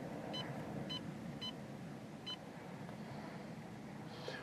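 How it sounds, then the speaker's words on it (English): Short electronic keypad beeps, four spaced tones, as a phone number is dialed in on a fishing boat, over steady engine and water noise. "I'm about to dial the number in"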